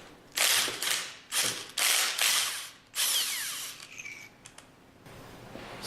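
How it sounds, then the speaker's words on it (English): Retaining bolts are backed out of the manifold of a General Pump MWSR pump with a power tool, in several loud, close bursts of ratcheting whirr separated by short pauses, followed by lighter clicks and rattles. "Once the pins are securely in place, remove the remaining retaining bolts."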